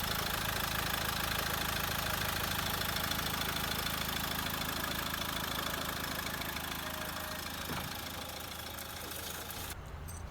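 A Mahindra XUV500 engine idling after a full overhaul, a steady, even running drone held close and constant, fading slightly toward the end.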